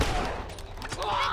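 Rapid gunfire in The Last of Us, dense bursts of shots filling a short span, loud and close, with a voice talking over the shooting.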